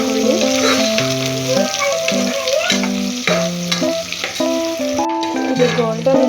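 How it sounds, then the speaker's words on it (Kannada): Chicken pulao base frying in a pan until golden brown, a continuous sizzle with occasional stirring under prominent melodic background music. "ಇದು ಗೋಲ್ಡನ್ ಬ್ರೌನ್ ಆಗೋವರೆಗೂ ಫ್ರೈ ಮಾಡ್ಕೊಳ್ಳಿ."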